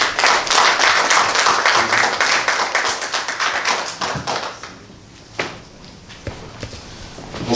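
An audience at a business meetup gives a loud ovation, dense close clapping for about four seconds that thins to a few scattered claps.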